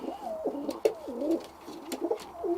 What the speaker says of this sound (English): As you can see, the birds look like they're doing really well.